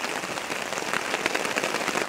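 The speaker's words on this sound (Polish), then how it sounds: "Po drugie, dopadła nas szwedzka ulewa." Heavy summer downpour in Sweden drumming steadily on a surface nearby, a dense continuous hiss of rain with no voices.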